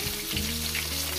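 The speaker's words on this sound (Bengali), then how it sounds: "মাছগুলো আমার ভাজা হয়ে গেছে" Rohu fish pieces fry in oil with a dense, steady sizzle and crackle, close and continuous under a low background hum, with no talking.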